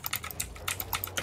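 Close, quick typing on a new 60% computer keyboard, a rapid run of crisp key clicks with uneven rhythm.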